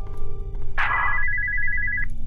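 A single electronic telephone ring sounds in a horror video game, a steady high tone lasting just over a second with a sharp onset, alone over a low background hum.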